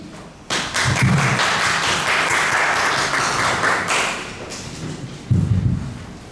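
Loud applause from an audience at a Lima book presentation, a dense sustained patter of clapping that swells in, holds steady for several seconds, then thins out with a final burst.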